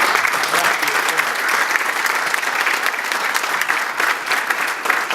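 A crowd at a political fundraiser for a county commissioner candidate gives a sustained, loud round of applause, dense clapping without pause and a faint voice underneath.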